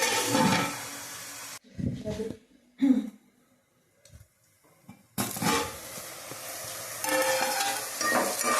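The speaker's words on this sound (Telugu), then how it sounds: "ఇప్పుడైతే ఉల్లిపాయ ముక్కలు పచ్చిమిరపకాయలు బాగా ఎర్రగా వేయించుకుందాం" Chopped onions and green chillies fry in a pan until reddish-brown, a dense sizzle with stirring that drops away for a few seconds, leaving scattered knocks, then returns loud and steady.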